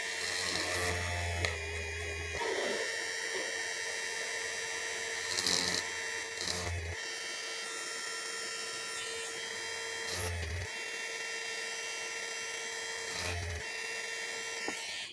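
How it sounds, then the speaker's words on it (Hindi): A cheap Rs 775 electric motor drill boring holes, its high whining motor running in several bursts with short pauses between, close and steady, with no talking over it. "अगर मैं यहाँ पे और 2-4 तो ड्रिल करूँ।"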